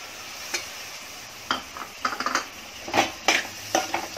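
Chopped tomatoes go into a pan of mutton masala with yogurt. Scattered sizzling bursts and spoon scrapes against the pan come in short irregular clusters, close by, with no talking.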